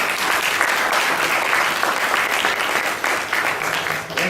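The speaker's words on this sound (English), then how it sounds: "Let's give a loud applause to all those who helped" An audience at a panel Q&A session applauds the helpers, a dense, steady wash of many hands clapping that holds for the whole stretch, loud and close with no pause.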